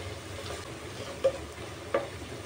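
Ginger stirred and sautéed in a pan gives a soft, steady sizzle with two brief sharp clacks of a utensil against the pan, fairly faint and with no voices.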